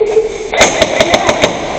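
A rapid burst of about six gunshots rings out in a multiplayer shooting game, loud and close, in quick even rhythm.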